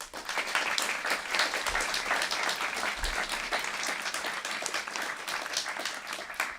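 A large audience at a commencement ceremony applauds in a dense, steady wash of clapping, fairly quiet and distant, lasting several seconds without talk.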